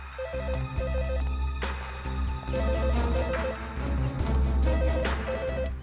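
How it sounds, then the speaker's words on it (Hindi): Telephone ringing at a PCO booth in bursts of electronic trilling rings, repeating several times over a steady low hum, with no talking. "घंटी की आवाज तो यहीं से आ रही है।"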